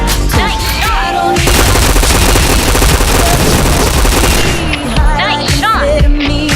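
Dense, loud automatic gunfire in a multiplayer shooter game, a sustained burst of rapid shots after a few single cracks, then scattered shots and game effects at the end.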